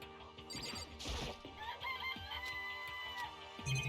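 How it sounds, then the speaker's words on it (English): Chickens in the video game Danganronpa: Trigger Happy Havoc cluck and crow in a busy cartoon sound effect, with bright chirps and a clatter, played alone without talk. "Hi, chickies. It's a chicken."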